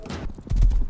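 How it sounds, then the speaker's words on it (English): Hoofbeats of a horse galloping in the video game Rust, a quick run of clip-clop thuds that grows louder and heavier in the second half, with a voice briefly audible over it. "Go, horsey, go!"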